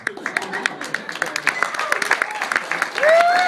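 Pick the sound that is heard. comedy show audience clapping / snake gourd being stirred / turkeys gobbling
comedy show audience clapping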